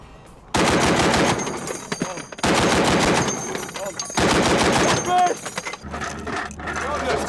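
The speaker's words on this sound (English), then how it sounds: "the 50mm heavy machine gun" A .50 calibre heavy machine gun fires long, loud, close bursts of rapid shots, separated by short pauses, with mechanical clatter in between.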